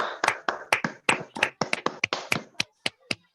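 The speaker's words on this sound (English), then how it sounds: "Give a huge round applause to her." A small group clapping in a loose, uneven rhythm, distinct individual claps close by, fading toward the end.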